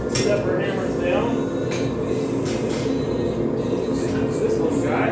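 A hammer forging a railroad spike into a knife, giving repeated sharp metallic clanks on an anvil over a steady, noisy workshop background.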